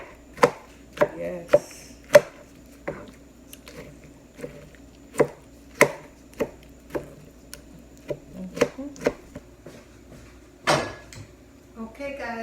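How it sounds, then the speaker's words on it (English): A knife rough-chops vegetables for salsa on a cutting board with sharp, close, irregular thuds, about a dozen strikes with uneven pauses, plus a brief clatter of utensils and one short spoken word. "Just do a rough chop."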